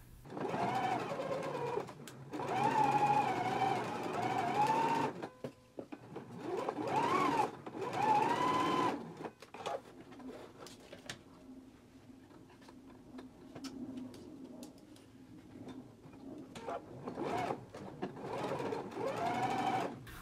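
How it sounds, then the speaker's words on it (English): Bursts of a domestic sewing machine stitching darts on a McCall's 7922 garment, several close, loud runs separated by brief pauses, with lighter stitching and clicks in the quieter second half. "So let's go ahead and stitch our darts now."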